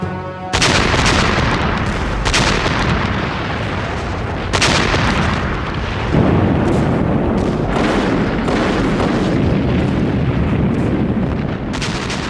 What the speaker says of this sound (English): after Hitler's invasion of the Soviet Union, the guns of the Red Army began a ferocious bombardment of German forces in what today is Belarus.